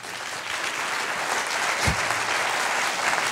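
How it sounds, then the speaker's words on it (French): Applause from the audience at a film festival closing ceremony, thanking partners: a loud, continuous roar of many clapping hands with one brief low thump partway through. "je pense qu'on peut vraiment les applaudir"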